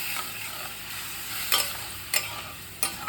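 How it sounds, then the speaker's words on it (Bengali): Masala paste with tomato and spices frying in a pan while a spoon stirs it, a steady sizzle with three or four brief scraping strokes, close up and without speech. "অল্প একটু জল দিয়ে রেখেছি, আমি মশলাটা দিয়ে দেব। ভালো করে কষিয়ে নেব।"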